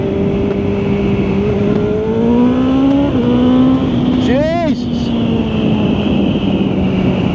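Inline-four sport motorcycle engine revs under way, its pitch climbing and dropping through gear changes, with a brief sharp whine of another passing vehicle midway; loud and close throughout.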